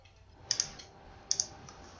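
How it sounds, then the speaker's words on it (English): Password typed on a computer keyboard, heard as two quick pairs of crisp key clicks, close and fairly faint in a quiet room with no talk. "So I type my password."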